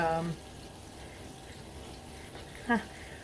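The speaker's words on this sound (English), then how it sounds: "I have some water running over here to my right as well" Hot tap water runs steadily into a kitchen sink drain as a low, even rush, with a voice speaking briefly at the start and again near the end.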